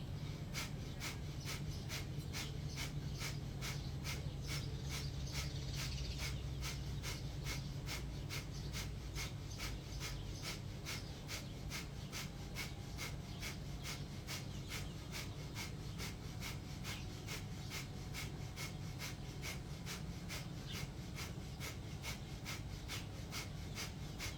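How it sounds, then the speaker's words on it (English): Breath of fire, the rapid rhythmic yogic breathing of kundalini yoga, sounds as a steady, fast train of sharp nasal exhalations, evenly paced and continuous for the whole stretch, close and moderately loud, with no talking. "breath of fire, such a powerful activation of the navel point"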